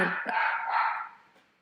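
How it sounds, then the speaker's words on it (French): A dog barks once indoors, a single loud close woof that fades out quickly, with no talking over it. "T'as entendu mon chien?"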